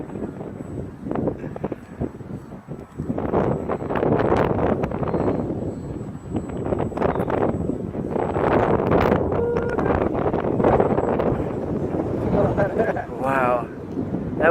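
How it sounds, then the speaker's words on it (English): Strong high wind buffets a microphone outdoors at night, a loud continuous rumbling roar that gusts and swells throughout, with people talking faintly underneath. "That wind."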